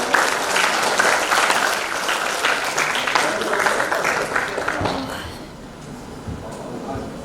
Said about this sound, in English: So give a big applause,